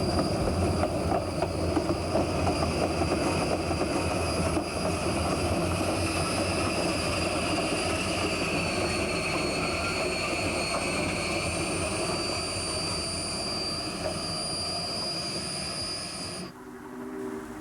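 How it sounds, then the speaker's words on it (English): A 1956 steam train being turned at Cowdrey, Colorado, for its return trip; a steady, loud mechanical roar with a high sustained whine holds throughout, then cuts off abruptly near the end. "here we see the train being turned, ready for the return trip"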